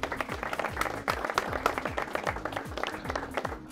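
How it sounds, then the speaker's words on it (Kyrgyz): An audience claps for a team of comedians at a Kyrgyz comedy show, the applause fairly close and lively, with sharp individual claps standing out over the crowd for a few seconds. "Команда бир колдоп кол чаап коелу."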